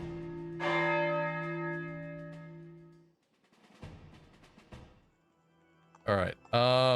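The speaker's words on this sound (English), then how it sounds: "We need the bell sound effect?" A deep, resonant bell from the Fire Emblem game's Duma Tower rings once and hangs in a long decay, followed by quieter game sounds and a voice.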